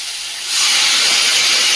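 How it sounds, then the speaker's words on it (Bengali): Water poured into a pan of pumpkin and potato curry hits the hot oil and bursts into a loud, close hiss that swells after a half second and holds steady. "সবজিটা খুব সুন্দর করে কষিয়ে নিতে আর কষানো জল দিয়ে দেবো"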